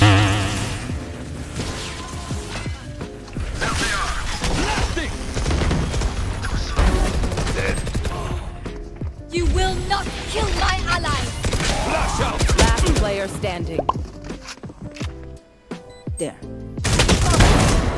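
Rapid gunfire in the video game Valorant, with bursts of automatic shots and single cracks piling up loudly in several clusters, broken by short gaps, while players talk excitedly over it.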